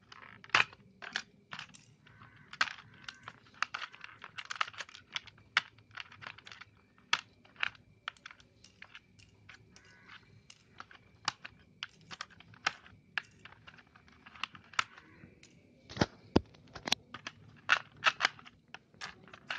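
Keys are pried off a very dirty PC keyboard by hand, giving a long run of sharp plastic clicks and snaps, irregular and close, with quiet gaps between them.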